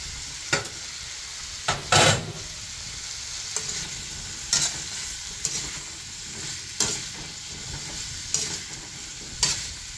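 Chicken and carrots for chicken pochero sizzle and fry in a pan, stirred in a steady rhythm of scraping strokes roughly every second over a constant frying hiss.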